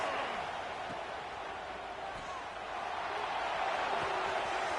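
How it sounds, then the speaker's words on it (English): Steady, distant roar of a large football stadium crowd at an Eagles game, a continuous diffuse wash of many voices swelling slightly toward the end with no clear single speaker. "This crowd ready to make its presence known."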